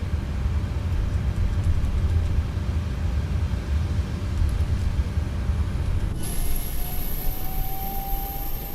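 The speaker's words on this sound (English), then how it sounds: "So APU spooling up." An aircraft auxiliary power unit spools up over a steady broadband roar, and a rising high whine suddenly joins partway through and climbs in pitch, loud and close with no voices.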